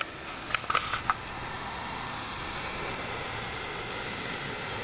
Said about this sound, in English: We get kind of a dual hissing noise.